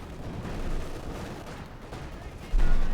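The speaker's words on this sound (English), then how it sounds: "Good hit there with H-5 on the Panzer IV." Heavy gunfire and artillery-like explosions as an H-5 hits a Panzer IV in the video game Company of Heroes 2, a dense rumbling battle din with a sharp boom near the end.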